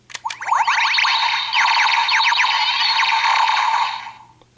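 Deluxe Dino Saber toy with a Dino Charger inserted lets out a loud, continuous electronic burst of warbling, sweeping chirps and zaps, starting with a couple of sharp clicks and fading after about four seconds.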